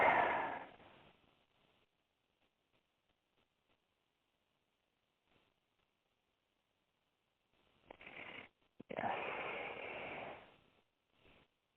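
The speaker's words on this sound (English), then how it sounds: "I'm just breathing with you" Heavy, close breathing comes in slow, loud breaths: a strong exhale at the start, near silence for several seconds, then a deep breath pair and a long drawn-out breath near the end.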